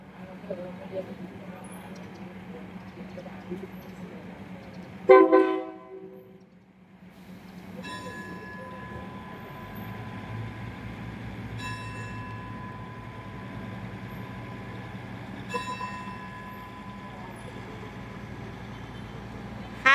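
Ambience at Ayutthaya railway station in Thailand: a steady rumble of a train with a loud horn blast, then sustained tonal horn or whistle notes and rolling railcar noise continuing throughout.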